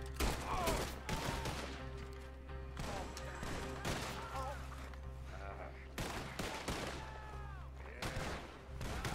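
Repeated gunfire in the Red Dead Redemption II video game, bursts of shots and volleys coming in clusters across the stretch, loud and close, with game sounds and some talk mixed in.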